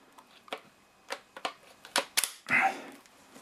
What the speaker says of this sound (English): pull the bolt handle down and that locks the bolt in place